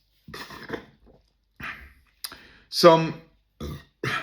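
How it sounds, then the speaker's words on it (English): A man lets out a single short, voiced burp between quiet, scattered mouth and throat noises, close and fairly loud for a moment against near silence. "Damn, it felt good to burp a little bit."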